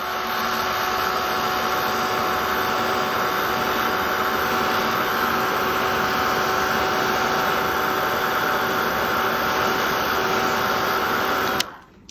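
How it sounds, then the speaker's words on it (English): A heat tool blows continuously to dry paint on aged paper ephemera, a steady loud whirring hiss with a constant whine, cutting off abruptly near the end. "I can bring in my heat tool and just get that to dry quickly."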